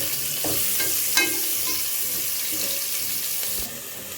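Long-cut onions are stir-fried in oil in a pan for paneer pulao, heard as a steady close sizzle with a few spatula scrapes and knocks.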